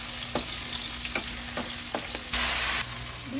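A pot of mung bean stew sizzles and bubbles steadily on the stove, a constant close crackle with a few light clinks of stirring.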